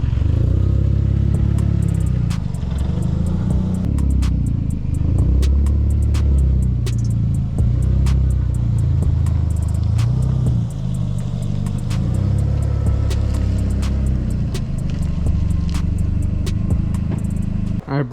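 A Volkswagen MK4 GTI 20th Anniversary Edition engine idles and rumbles steadily nearby, with occasional revving and clattering as the car is moved.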